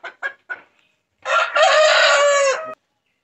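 A Rhodia hen crossed with a Label Rouge rooster, free-range on a farm, gives three quick clucks, then after a short pause a loud, drawn-out crowing call close by, alone with no talking.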